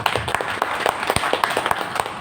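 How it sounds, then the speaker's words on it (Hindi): Audience applause at an agriculture training program, a steady dense wash of many hands clapping with sharp individual claps standing out, sustained for a couple of seconds at moderate loudness. "तो एक बार इनके लिए जोरदार ताली हो जाए"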